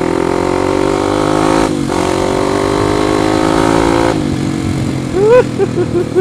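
A Kawasaki KLX 250 supermoto motorcycle runs on a test ride, its single-cylinder engine droning loud and close with steady harmonic tone, dipping briefly at gear changes, then revving up in quick rising blips near the end.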